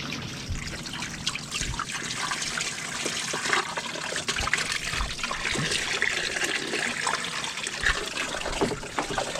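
Water poured over a Takeuchi TL240 compact track loader during cleaning, trickling and splashing steadily and close by, with scattered drips and small splashes throughout and no voices.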